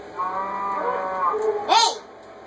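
Cows mooing in the PS3 edition of Minecraft, a long drawn-out low moo followed by a shorter rising call, clear and close with no talk over them.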